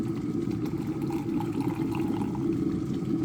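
Very hot water is poured from a heated device into a vessel, a steady close gurgling splash over a low humming rumble, continuous for a few seconds with no talk.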